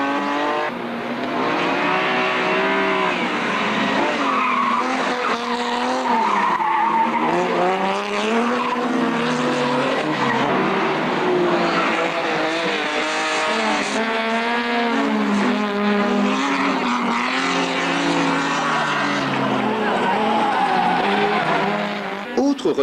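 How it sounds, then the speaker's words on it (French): A BMW 325i race car roars continuously at high revs while its tires squeal and skid through slides at a 1998 motorsport event, loud and close, with the engine note rising and falling through the drift. "Comment en effet rester insensible au son rageur de cette BMW 325i"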